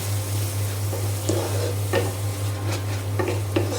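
Prepared spice paste frying with browned onions in a pan for a rohu fish curry with carrot and potato, a steady sizzle under a low hum with intermittent spoon scrapes and clinks, close by.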